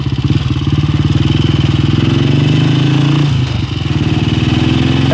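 A freshly rebuilt 1968 BSA Starfire 250 motorcycle engine idles steadily up close with a fast, even throb, dipping briefly before settling back into its rhythm.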